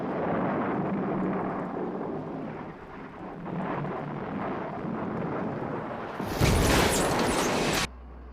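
Stormy thunder from a puppet TV adventure, where a reflector on a tower draws lightning: a long, steady roaring rumble with rain-like hiss, then a sudden, louder bright crack near the end before it drops away.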